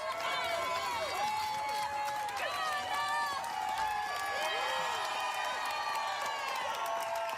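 A crowd cheers on a swimmer at a city swim meet, with continuous whoops and high-pitched shouts of encouragement from parents and kids, echoing loudly in an indoor pool setting.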